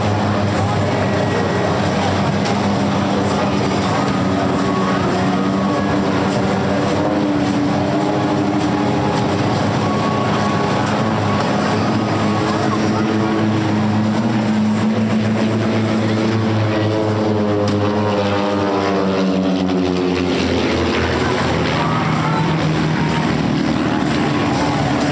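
Aerobatic aircraft diving over the beach at an air show, a loud continuous engine roar whose pitch sweeps downward as the planes pass close, with a wind-swept outdoor wash underneath.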